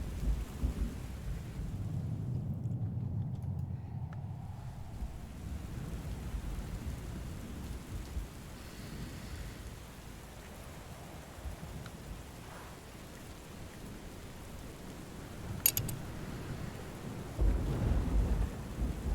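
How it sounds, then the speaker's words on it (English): Rumbling thunder rolls through a gentle thunderstorm in the video game Book of Hours, with steady rain hissing throughout, a sharp crack midway and a heavier swell of thunder near the end, with no talking. "Storm! Alright, this is why we wait."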